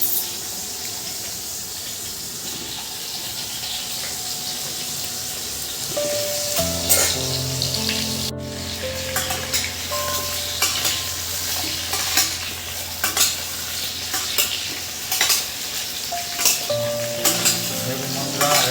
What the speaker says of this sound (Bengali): এবার এর মধ্যে এই কেটে রাখা আলুগুলো আমি ধীরে ধীরে দিয়ে দেবো।